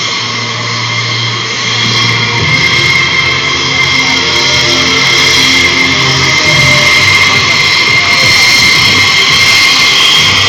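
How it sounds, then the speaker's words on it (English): An RSAF F-15 fighter jet taxiing for takeoff at a 2011 air force open house air show, its engines a loud, steady, close roar with a rising whine throughout. "the F-15 as you see is now taxiing for takeoff."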